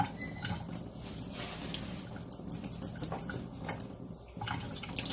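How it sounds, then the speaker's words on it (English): Steady running tap water pours over hands being washed at a kitchen sink, a continuous broadband splash with faint shifting as the hands move through the stream, close and moderately quiet. "You want to wash your hands really good before you touch your seasoning"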